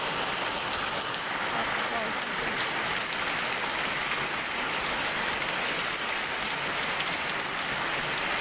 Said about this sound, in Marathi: पाऊस येतो या